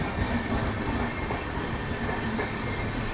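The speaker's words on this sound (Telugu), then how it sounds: "వచ్చేసి మనకు చండీగఢ్ మదురై వీక్లీ ఎక్స్ప్రెస్" The Chandigarh Madurai Weekly Express rolls past, a loud, steady rumble of a passing train with rhythmic clickety-clack of wheels over rail joints and faint metallic squeal, continuous throughout.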